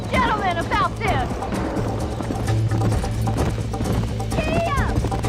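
Horse hooves clip-clop in a steady galloping rhythm in the Western video game Red Dead Redemption, loud and continuous, mixed with game music and character voices.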